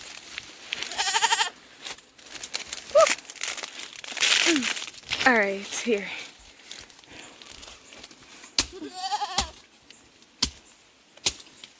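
A goat bleats several times close by, wavering calls mixed with crinkling, rustling handling noises, while people talk intermittently nearby.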